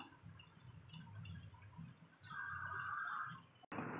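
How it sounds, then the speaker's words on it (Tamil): Sesame oil is poured into a pot with a faint, quiet trickling hiss that starts midway and runs for about a second, then cuts off abruptly. "நம்ம வந்து இப்போ முடக்கத்தான் குழம்புக்கு நல்லெண்ணெய் தான் ஊற்ற போகிறோம்"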